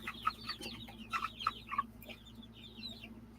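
Chickens cluck in a series of short, bright calls at moderate distance, repeating irregularly over a steady low background hum.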